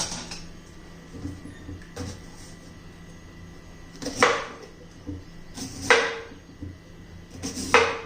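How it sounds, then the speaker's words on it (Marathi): A knife cuts raw green mango into pieces for pickle, making a handful of sharp, spaced chops against the board over a low, steady background hum. "आता कैरी आपण चिरून घेणार आहोत."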